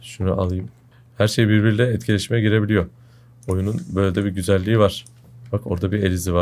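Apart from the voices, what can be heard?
None of the usual background noises is heard.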